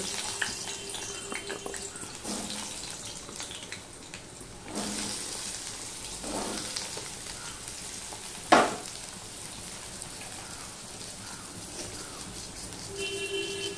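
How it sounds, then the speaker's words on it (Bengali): Pieces of elephant foot yam (ol kochu) fry in white oil in a kadai, giving a steady close sizzle with stirring scrapes and one sharp clink, and nobody speaks. "সবার প্রথমে আমি এই ওলকচুগুলো ভেজে নেব"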